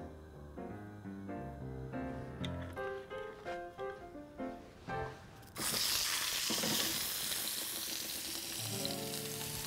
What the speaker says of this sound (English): There's always something about the sizzle that makes it feel good.